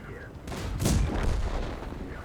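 Tank cannon fire in the World of Tanks game: a loud booming blast with a long rumbling tail, amid ongoing battle noise.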